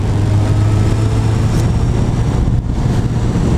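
A car travels a rough, poorly kept road, its engine droning low and steady from inside the cabin with a constant rumble and no voices.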